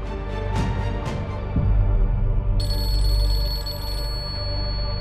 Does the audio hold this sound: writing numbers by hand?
no